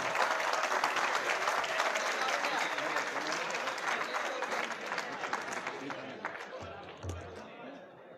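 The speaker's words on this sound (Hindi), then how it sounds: "आपकी भरपूर तालियों में जनाब दानिश नकवी" An audience at a university law college mushaira in Sargodha bursts into sustained applause for a poet, dense clapping with crowd murmur that gradually thins out, a few scattered claps lingering near the end.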